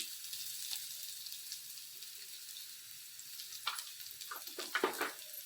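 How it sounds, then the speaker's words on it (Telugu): Onion and green chilli pieces fry in a pan for a curd curry, giving a faint, steady sizzle with a few louder spatters and stirring scrapes near the end. "ఉల్లిపాయ, పచ్చిమిరపకాయ ముక్కలు వేగినాయి"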